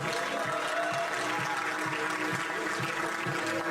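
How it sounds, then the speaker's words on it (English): An audience at the LINKFLUENCE 2023 event gives a steady, sustained round of applause for a speaker, an even wash of many hands clapping at moderate volume. "Can we have a round of applause for Priya Vajpayee?"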